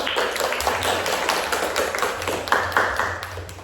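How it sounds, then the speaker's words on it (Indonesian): A small group gives a round of applause in a group counseling session, steady close clapping from several hands with no talking over it. "Kita bagi aplaus dulu untuk."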